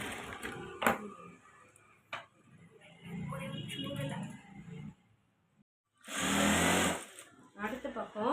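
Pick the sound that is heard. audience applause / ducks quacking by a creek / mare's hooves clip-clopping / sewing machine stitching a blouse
sewing machine stitching a blouse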